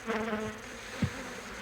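Carniolan honeybees buzz close by in a brief, wavering drone, with a soft thump partway through, as colonies are combined during an autumn queen replacement.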